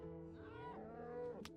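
A blocky Minecraft cow lets out a single drawn-out, lowing moo, close and clear, with no talking over it.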